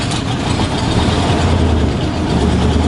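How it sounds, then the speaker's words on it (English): A project truck's engine running steadily after a jump start with brake cleaner, a loud continuous low rumble close to the microphone. "But the motor is running really good."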